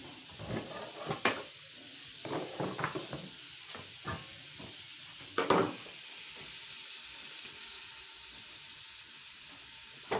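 Quiet sizzling of spinach in a pan with several sharp scraping and clattering strokes of stirring, then a softer steady hiss.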